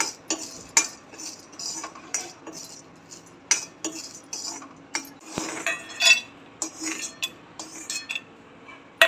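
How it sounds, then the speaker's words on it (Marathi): Small green cardamom pods dry roasting in a pan for homemade garam masala, with a close series of light, irregular clinks and rattles as the pods and a spoon knock against the metal; no voices. "छोटी इलायची ती पण भाजून घेऊ"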